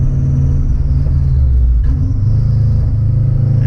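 A straight-piped Subaru WRX bugeye roars under acceleration in a second gear pull, a loud, deep, continuous rumble heard close up from inside the car with a slight shift in tone partway through.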